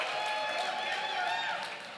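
An audience at a Mixed Taste lecture event breaks into dense, sustained applause that fills the room evenly, then begins to fade toward the end.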